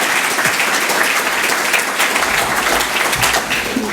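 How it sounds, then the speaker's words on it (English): Sustained applause from a large audience at a book launch, honoring the guest of honor; dense, steady clapping that fills the room alone, without talk, for a few seconds. "So a special round of applause for our guest of honor."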